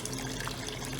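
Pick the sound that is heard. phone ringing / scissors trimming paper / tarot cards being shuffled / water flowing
water flowing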